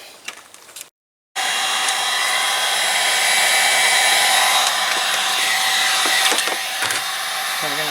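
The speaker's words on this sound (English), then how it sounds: "get out my heating gun or heater gun, and see if heating this up and scraping this out would get this cleaner" A heat gun blows on a 1988 Corvette's weather strip seal, switching on after a short silence into a loud steady whirring hiss that runs continuously, with a few faint knocks.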